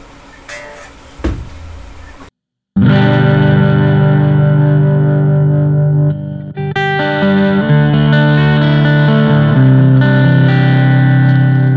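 After a brief muted bit and a pause, a clean electric guitar on a Mclorence LP100f neck pickup rings out with warm sustained chords and single notes, loud and close.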